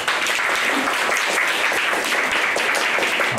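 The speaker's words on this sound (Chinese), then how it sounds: "让我们再掌声" An audience at a Q&A session bursts into loud, sustained applause, a dense crackle of many hands clapping close by without pause.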